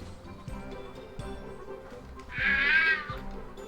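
A Pokemon's short meowing cry in the video game Pokemon Snap, a bright warbling call rising above quiet game music and clicking effects.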